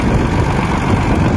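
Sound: Belarus MTZ 1221.2 tractor engine running

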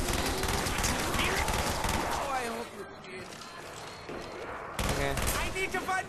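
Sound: hip-fire gunshots in Black Ops Zombies, from a video game

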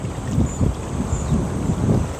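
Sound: strong wind blowing

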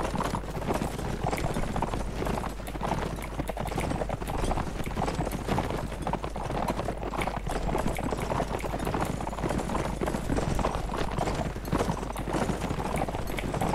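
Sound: horses galloping in Mount & Blade Warband video game

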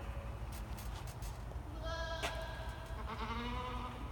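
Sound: goats bleating

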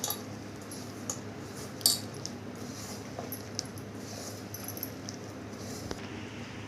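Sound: stirring dosa batter with spoon in bowl

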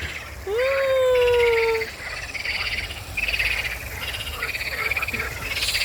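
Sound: frogs croaking

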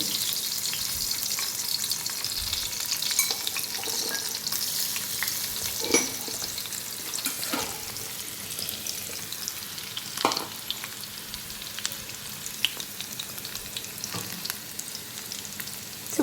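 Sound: garlic frying in oil in a pan

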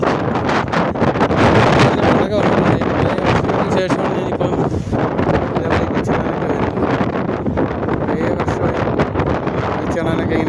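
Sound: strong wind at the seashore

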